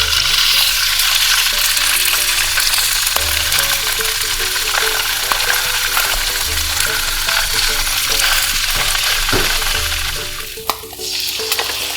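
Browned salmon fillets, just turned over, sizzling in a thin layer of oil in a frying pan over medium heat, a steady loud crackle that thins slightly near the end, with soft music beneath.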